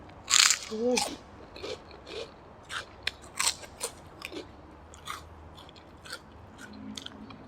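Crunchy shrimp rice crackers being bitten and chewed close up, a run of sharp crisp crunches at the start easing into softer, scattered chewing crackles, with a brief voice sound early on.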